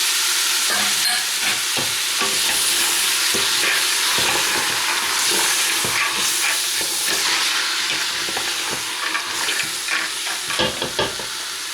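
Onion, knife-crushed garlic cloves and chickpeas frying for Moroccan harira, a strong steady sizzle with frequent utensil scrapes and light clatter, a little busier toward the end.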